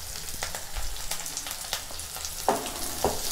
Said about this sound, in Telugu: కరివేపాకు కూడా ఇందులో వేసేసుకుందాం.